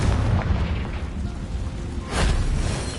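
Confringo blasting spell in Hogwarts Legacy, a deep booming explosion with a rumbling, noisy burst that swells again near the end, loud and close.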